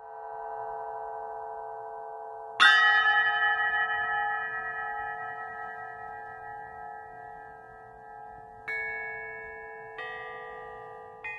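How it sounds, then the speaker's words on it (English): Bright metallic Burmese spinning bells ring with long shimmering sustains, struck a few times and left to decay, their tones wavering as they fade. "The third movement features the Burmese bells, which are spinning bells"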